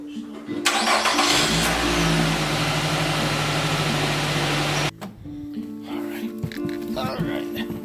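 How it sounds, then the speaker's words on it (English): Push-button start of a 2013-18 Nissan Rogue engine: a short cranking whine catches into a loud steady run for several seconds, then settles to a quieter idle as a person talks nearby. "Feet on the brake and push start, and we're good."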